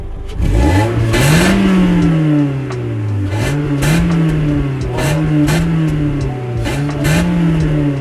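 A 1998 Volkswagen Golf 4 petrol engine is blipped repeatedly with sharp throttle stabs, each rev swelling and dropping back in a quick rhythm, loud and close with no speech.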